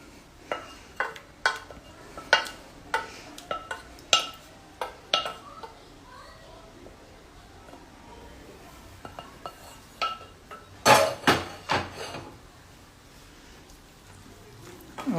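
Onions and cooked tomato being stirred together in a pan, a series of sharp metallic spoon knocks and scrapes in uneven bursts, then a quiet stretch and a final cluster of clinks.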